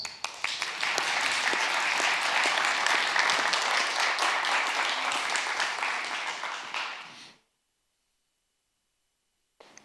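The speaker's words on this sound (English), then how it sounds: "Let's give him a warm round of applause as he takes the stage to share his insights with us" Warm audience applause greets Professor Ger Graus as he takes the stage at the Future Skills 2040 event in Qatar, a dense sustained crowd clapping that gradually thins and fades out, followed by a short silence.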